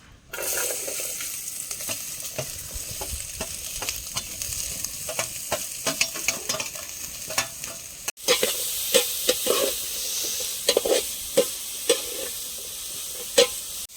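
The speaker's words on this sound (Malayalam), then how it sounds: "അപ്പം നമുക്ക് ഇതൊന്ന് വഴറ്റി കിട്ടണം കേട്ടോ, ഒന്ന് വഴറ്റിയെടുക്കണം." Carrots and beans sautéing in hot oil for a noodle dish, with a steady sizzle and repeated clicks and scrapes of a spoon stirring the pan; a brief break near the middle, no talk.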